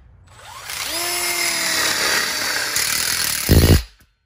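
A power drill drives a screw into the center tube of a wrap-around backsplash and split bar kit, a steady whirring run that climbs in pitch, then ends in a short loud grinding burst as the screw seats before cutting off.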